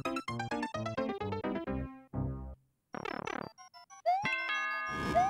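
Bright electronic ding-dong chime with jingling musical tones from the video game Super Mario Maker 2, loud and clear, a run of descending notes followed by rising sparkly tones, with no speech over it.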